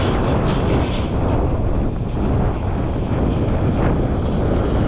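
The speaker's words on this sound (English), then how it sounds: "Yeah, I can feel it now, the wind where I am" Strong wind buffets the microphone at a drone pilot's spot beside Southampton docks, a loud, steady rushing roar that continues throughout without a break.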